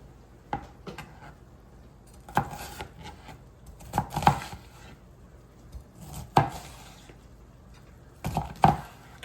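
A knife chops vegetables on a cutting board for beef burgundy, giving a series of sharp, irregular thuds spaced about a second apart, close and moderately loud, with no talking.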